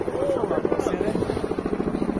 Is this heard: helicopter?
yes